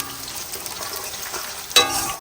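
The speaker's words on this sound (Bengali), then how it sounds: "মটনের জন্য পেঁয়াজ ভাজছি" Onions frying in oil for mutton give a close, continuous sizzle with light stirring, jumping louder near the end in a sharp burst just before stopping.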